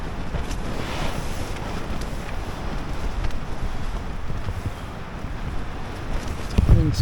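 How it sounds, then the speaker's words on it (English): Gusty wind buffets a campsite before dawn at about 4:30 a.m., a steady broadband roar hitting the microphone with rumbling low gusts throughout and a sharper thump near the end. "the wind's picked up."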